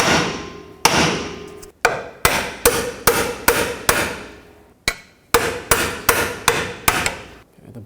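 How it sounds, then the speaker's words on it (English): Sharp metallic hammer blows drive a control arm bushing into place on a 2004-2008 Acura TL, ringing out in a steady series, about a dozen strikes in quick rhythm with brief pauses, close and loud. "I'm just going to hammer this bushing into place."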